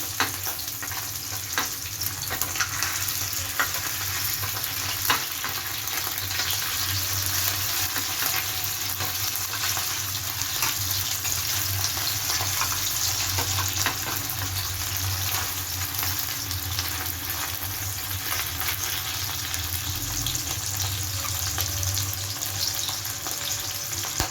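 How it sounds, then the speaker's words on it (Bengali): Cutlets made from leftover rice fry in a pan, giving a steady, close sizzle that continues evenly throughout with no talking. "এবার ভাজি কাটলেটগুলো, এবার ভেজে নিয়ে আমি আসছি।"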